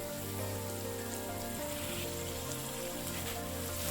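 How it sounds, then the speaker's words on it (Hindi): Egg curry masala frying in oil in a covered pan over a low flame, a steady, faint sizzle like light rain with no talking. "अब हम इसे लो फ्लेम पे लीड लगा के तब तक भूनेंगे जब तक ये अच्छे से मसाला तेल नहीं छोड़ देता"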